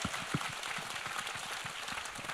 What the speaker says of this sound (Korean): 우리 좋으신 주님께 감사의 영광의 박수 드리겠습니다.